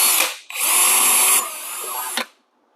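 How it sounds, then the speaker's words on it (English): A power drill with a small bit whirs loudly up close in two bursts, a short spin followed by a longer steady run that dips slightly before stopping. "All right, so small drill bit right in the center."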